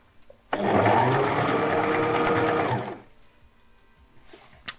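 A sewing machine stitches fabric in one continuous two-second burst, a loud close mechanical whir that starts abruptly and stops, followed by quiet handling sounds.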